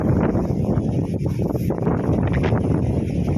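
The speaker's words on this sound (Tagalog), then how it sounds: "Lumakas na naman yung hangin." Strong gusty wind buffets the microphone, a loud roaring rumble that continues without a break.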